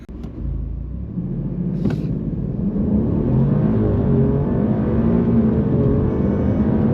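An Alfa Romeo Quadrifoglio launches hard from a standing start on a road, its engine rumbling up into a strong, rising roar that holds loud and close for several seconds.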